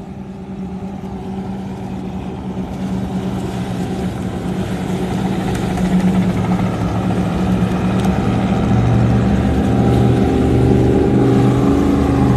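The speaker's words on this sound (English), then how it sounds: "And then look at this cigarette boat." A cigarette boat's engine roars steadily at a poker run over open water, loud and continuous, building slightly in intensity with no talking.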